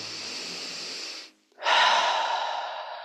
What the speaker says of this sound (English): Just breathing out any heaviness at the heart.